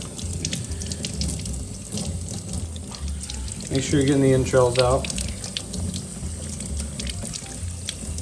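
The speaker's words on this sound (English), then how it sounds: "just going to wash them off gently. Not hot water, obviously, just nice cool water, tap water." Cool tap water running over raw lobster tails as they are rinsed in a sink, a steady gentle stream with a brief louder splash midway, while someone talks over it.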